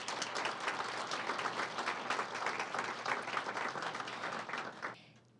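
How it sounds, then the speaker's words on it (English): Sustained applause from an audience, lively and full, fading off quickly at the end. "And so big round of applause."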